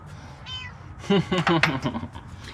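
A cat meows a few times at close range, a short high call followed by several louder, drawn-out meows.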